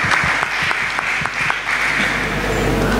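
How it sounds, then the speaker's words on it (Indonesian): Sustained audience applause for the churches at an indoor gathering, a dense steady wash of many hands clapping without pause for the full three seconds, fairly loud and close with no voices over it. "Tepuk tangan untuk gereja-gereja."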